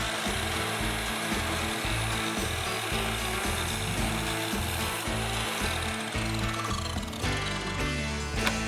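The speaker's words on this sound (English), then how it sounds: "solar powered miter saw." A solar-powered miter saw on a homestead in Portugal cuts through wood, a loud, close whine with a rhythmic, pulsing low drone as the blade works the board, winding down near the end.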